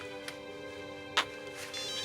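A mobile phone ringtone plays as a steady electronic tone, with a couple of short clicks and a brief burst partway through.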